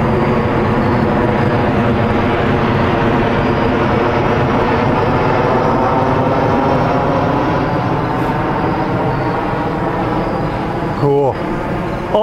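Radio-controlled Horten flying-wing model aircraft making a pass down the flight line near a baseball field, a loud, steady engine drone filling the whole stretch with slight swells, and voices partly buried beneath it.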